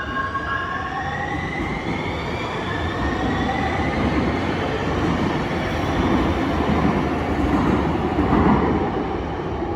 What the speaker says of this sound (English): There's a train pulling on the other side right now